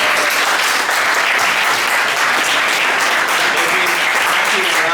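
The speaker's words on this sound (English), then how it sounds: "I would please ask you to give a great round of applause to the team" A crowd claps steadily in a dense round of applause that holds at a constant level throughout.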